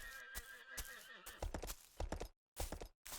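A horse in the video game Kingdoms Reworked neighs in a drawn-out whinny, followed by sharp clip-clop hoof knocks at close range, with short gaps of silence between bursts.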